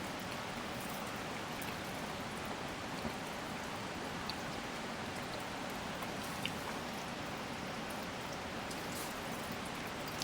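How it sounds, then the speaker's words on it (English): Rain drips and patters steadily off the top of an elevated tent while camping, a dense, even hiss of drops with occasional sharper taps, no voices. "He's trying to eat the rain"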